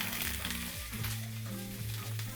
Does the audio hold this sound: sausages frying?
yes